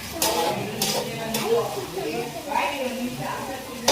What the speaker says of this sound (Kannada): ನೆಕ್ಸ್ಟ್ ಅದನ್ನು ಮಿಕ್ಸ್ ಮಾಡ್ತಾ ಇರಬೇಕು.